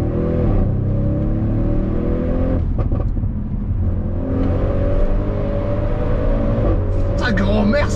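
A car pulls away from a toll booth to merge into traffic, its engine note rising and rumbling steadily close by while people talk over it inside the cabin.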